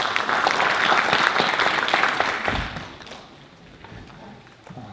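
An audience at a March 1st Movement symposium applauds a panelist, with full clapping for about two seconds that thins and fades into scattered claps and a quiet room.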